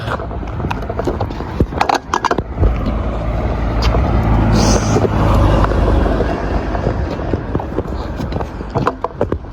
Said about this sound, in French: Attention à la voiture.